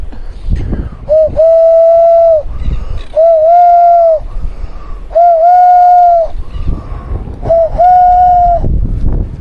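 Outdoors on a Queensland island, a person calls to birds with an imitated bird call, giving four long, steady whistled coos spaced evenly, close and loud over light wind noise.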